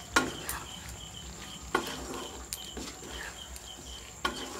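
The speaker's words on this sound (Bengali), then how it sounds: "এর মধ্যে আমি দিয়ে দিচ্ছি এবার বড় বড় করে কেটে রাখা পেঁয়াজটা। এটাকে ভালো করে মিশিয়ে নিচ্ছি।" Large-cut onion pieces stirred through chicken dopiaza in a pan, a quiet sizzle with a few sharp scrape and clink transients from the spoon, close and alone without voices.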